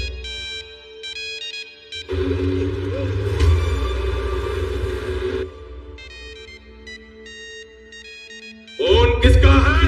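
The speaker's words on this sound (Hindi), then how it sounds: "फोन किसका है?" A mobile phone plays a loud, melodic electronic ringtone in repeating phrases, while a low rumble and noise swell in the middle of the ring.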